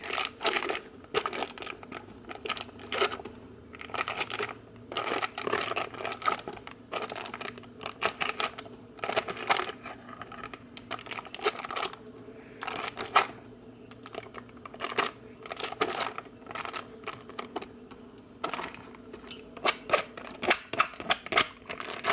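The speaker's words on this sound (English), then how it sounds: "So I cut it in half, then I cut that into cubes." A knife cutting food in half and then into cubes on a cutting board for slow cooker cream corn, a long run of quick irregular close chops and clicks with brief pauses between bursts.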